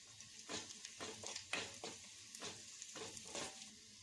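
Onion frying in a pan with bay leaf and whole spices added, giving a steady sizzle broken by repeated scraping stirs of the spoon, close and fairly quiet, with no talking.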